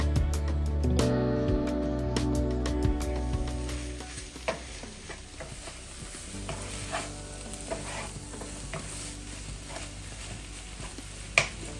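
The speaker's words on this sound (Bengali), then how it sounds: "খুব ভালো করে ভেজে নিব আমি" A chicken mixture frying with garam masala, coriander, cumin and curry powder for spring roll filling, a constant close sizzle with repeated scrapes and clicks of a spatula, louder at first and then settling.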